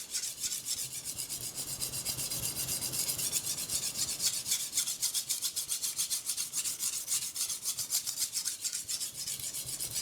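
A knife is sharpened on a sharpening stone with repeated, even rasping strokes, a close and steady back-and-forth scrape that continues for the whole stretch without talk.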